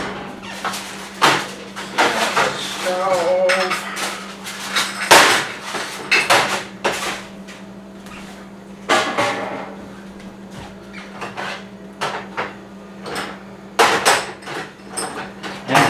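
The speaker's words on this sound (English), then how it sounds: "So I'm going to take it out of the oven." A heated metal fluting iron is taken out of an oven with clanks and knocks of metal, a scattering of loud sharp bangs between quieter stretches of handling.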